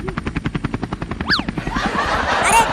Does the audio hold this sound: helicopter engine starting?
yes